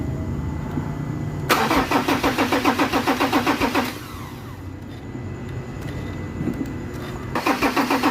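Ford Ranger 3.2 diesel engine cranking in bursts of rapid starter pulses, pausing briefly between attempts, then cranking again, loud and close with a steady low background hum and no talking.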